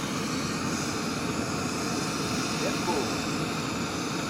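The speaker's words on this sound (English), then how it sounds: "The old pocket rocket doesn't take long to bring us to a boil." An MSR Pocket Rocket camping stove burns gas to boil water outdoors on a hiking trip, giving a steady, close, unbroken roaring hiss throughout.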